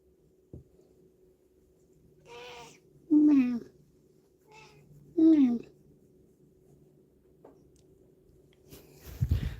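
Two house cats meow indoors, a few short calls spaced apart with quiet gaps between, close and fairly clear, while a person answers them in mimicking cat-like sounds and speaks softly.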